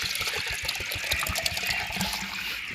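Liquid medicine and water being poured into a container for drinking water for young chickens, a close gurgling trickle with uneven splashy pulses.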